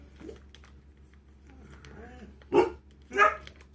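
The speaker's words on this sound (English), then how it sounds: "Oh, dogs. Ruin my video." Several dogs bark in short bursts, with a couple of louder barks near the end and quieter yips and growls before them, heard indoors close by.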